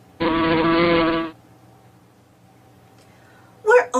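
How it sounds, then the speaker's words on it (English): A bee buzzes in one steady, harmonic-rich tone for about a second, close and loud. A faint hum follows, then a short burst of a voice. "Do you know what makes a buzzing sound? In Spanish we say abeja, and in English we say bee."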